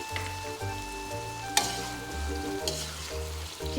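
Chicken pieces sizzle in a pan with ginger, garlic and onion, a constant crackling fry with a sharper splatter or stir sound now and then, while steady tones hum underneath.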